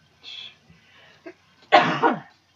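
A person coughs a few times close by, with a short sharp cough first, then a louder two-part cough near the end.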